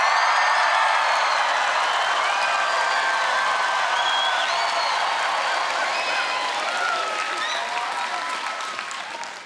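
A live studio crowd in Manukau at a Survivor New Zealand season finale cheers and applauds in a dense, steady roar with whoops, sustained loud throughout and tapering slightly at the end.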